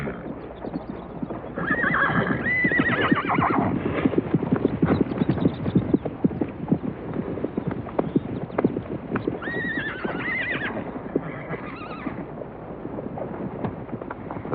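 Wild Mustang horses neigh and whinny repeatedly over a dense patter of hooves clip-clopping, the herd sounding close and busy throughout.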